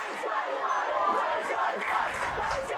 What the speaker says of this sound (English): Crowds up and about.